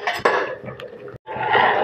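A spoon scrapes and clinks against a pot of milk thickening with custard powder, quick metallic stirring strokes in two short bursts around a brief pause.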